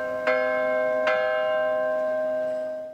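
Church bells at the Château de Chambord, hung in their restored seventeenth-century positions, ring out with two clear strikes about a second apart, each leaving a long, bright humming resonance that slowly fades.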